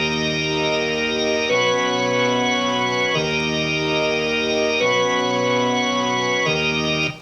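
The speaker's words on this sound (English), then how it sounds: "So this is the church organ isolated." Church organ from a composer's score for The Diments, sustaining two alternating chords that swap back and forth in slow, even blocks, rich and steady, heard on its own without other instruments.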